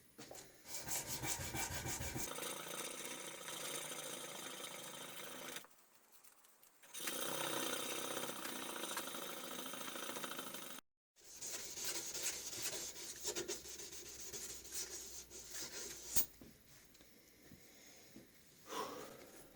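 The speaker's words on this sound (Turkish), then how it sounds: "Yani ağız açtığımız yere zımpara çekiyoruz ve yanak kısımlarına sırt kısmına zımpara çekeceğim." Sandpaper worked by hand over a forged axe head made from truck leaf spring steel. It gives long, steady rasping strokes, close and continuous, broken by a few brief pauses.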